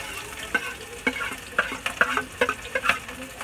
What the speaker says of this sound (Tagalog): Lagyan na natin tong bawang at sibuyas.